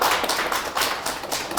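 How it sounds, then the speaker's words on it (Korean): An audience at a children's art and robotics class claps to welcome the artist, a dense, steady burst of applause at close range that stays loud throughout the short moment. "박수로 환영해 주시면 감사할 것 같아요"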